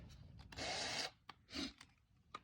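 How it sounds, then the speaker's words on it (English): A small drill bit bores out a plastic weld cap on a Buell brake light switch in two short, close buzzing bursts, with light handling clicks in between. "All you're doing is just drilling out the weld cap for the plastic weld."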